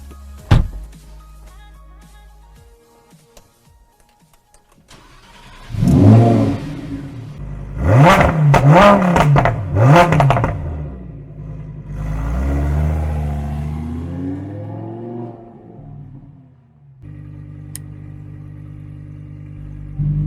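2020 Lamborghini Huracan EVO with a 640-horsepower 5.2-litre V10: a quiet idle, then loud sharp blips of revving that rise and fall, followed by a longer surging acceleration that drops back to a low idle, heard close.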